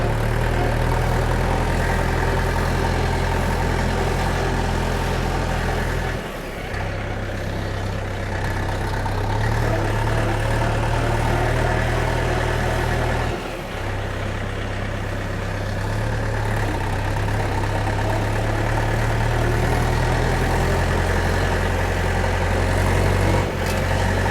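A DT-75 tractor engine runs at a steady, loud drone up close at about 1,500 rpm, with two brief dips where the load or revs shift.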